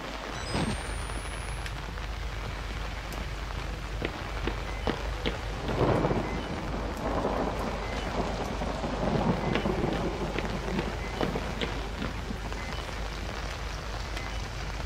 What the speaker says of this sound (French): Ok, il y a le tonnerre.